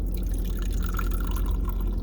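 Liquid poured from an unsealed container into a cup, a steady close trickle and splash running unbroken for the full two seconds with no talking.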